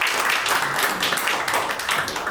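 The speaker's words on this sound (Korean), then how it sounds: "큰 박수로 모시도록 하겠습니다" An audience at a conference opening ceremony claps in welcome, giving a dense, continuous patter of many hands at moderate loudness that carries evenly through without pause.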